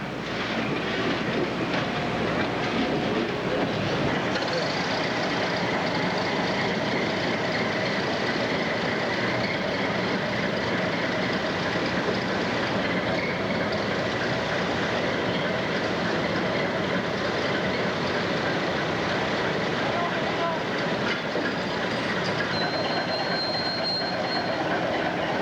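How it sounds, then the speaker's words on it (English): A train moving on rails with its locomotive, a continuous loud rumble and rolling clatter with wheel squeal rising now and then, heard at close range for the whole stretch. "They'll disconnect the locomotive and you can get a turntable shot over there."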